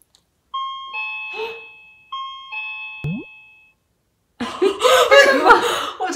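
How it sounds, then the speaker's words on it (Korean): A recorded two-tone doorbell chime rings twice with a pause between, followed by a short sliding tone and then a burst of busy, noisy sound. "너무 리얼한 초인종 소리인데?"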